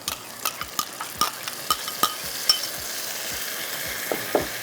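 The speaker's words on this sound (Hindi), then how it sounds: "बस आप चम्मच चलाते रहिएगा ताकि ये जो इसकी प्याज जो है ये फ्राई हो जाए।" Onions fry with cumin in a pot as a spoon keeps stirring, scraping and tapping in a regular rhythm over a constant low sizzle, close and clear with no talk.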